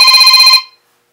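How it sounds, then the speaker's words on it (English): A mobile phone rings out unexpectedly indoors, giving a loud, close electronic ringtone with a fast warbling pulse that cuts off abruptly after about half a second and leaves silence. "I forgot to turn my phone off."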